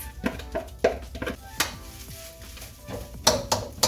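Rice for homemade hibachi sizzles in a hot pan under a steady hiss while a utensil scrapes and taps against the metal in irregular strokes, some knocks sharper than others.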